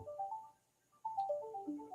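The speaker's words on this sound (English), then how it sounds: "Let me grab this phone." A phone rings with a melodic ringtone, two short bursts of descending electronic notes with a brief gap between, faint and alone.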